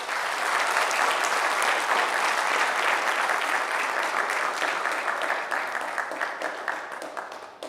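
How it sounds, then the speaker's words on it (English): Sustained applause from a conference audience fills the room, dense and steady at close range, with no talk over it, gradually thinning toward the end. "Round of applause for Dr. Lynn Holden"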